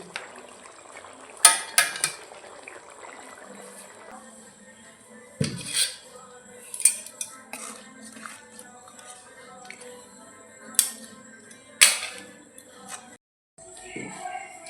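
Metal clanks and scrapes of a cooking pot of taro and ritha fish curry being lifted off the stove, several sharp knocks and rattles spaced out between quieter handling noises, close by.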